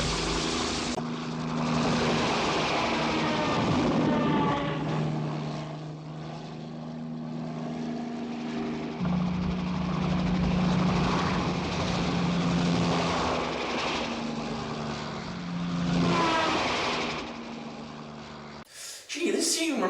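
A loud helicopter roar in a James Bond film scene, with steady rotor drone throughout, swelling and fading, then cutting off abruptly near the end.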